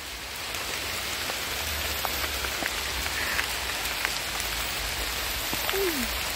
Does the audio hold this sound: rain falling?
yes